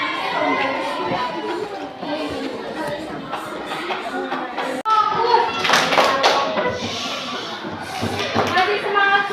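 A classroom of children claps the rhythmic Indonesian "tepuk semangat" cheer, a dense run of patterned hand claps with a brief break near the middle and chatter throughout.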